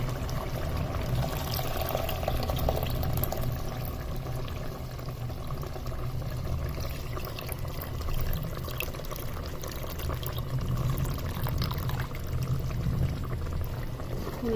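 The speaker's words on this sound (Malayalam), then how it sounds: "ഒന്നാം പാൽ ഒഴിക്കുകയാണ്." Thick first-press coconut milk poured into a simmering Kerala mango curry (manga mappas) made with country mangoes, a steady continuous liquid pour and bubbling heard close up for the whole stretch, with no talk.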